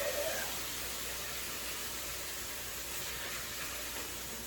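Dense, steady hiss of meat sizzling in a hot pan, close and continuous, with no talking.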